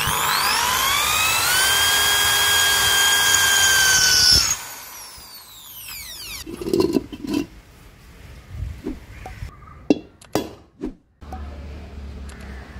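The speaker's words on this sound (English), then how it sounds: "When you drill thick metal" Power drill boring through thick metal: a loud whine holding steady pitch for about four seconds, then stopping, followed by scattered clicks, scrapes and handling knocks.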